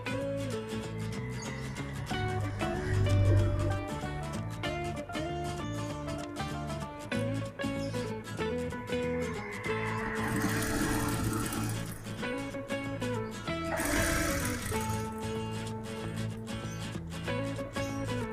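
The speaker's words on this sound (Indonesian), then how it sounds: "Nah, baru kita jahit." Sewing machine stitching a cargo pocket in bursts of rapid mechanical clatter, close and fairly loud, with brief pauses between runs of stitching and no talk.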